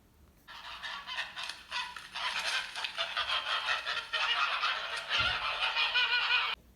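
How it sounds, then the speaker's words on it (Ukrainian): A flock of geese honk continuously, overlapping harsh calls from several birds, loud and close. "це гуси."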